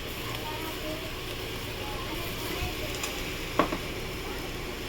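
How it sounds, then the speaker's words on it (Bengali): Spice paste with turmeric frying in a pan for aloo posto, a low, even sizzle with faint stirring scrapes and one brief clink near the end. "হলুদ দেওয়া একটু ভালো করে ভেজে নেব।"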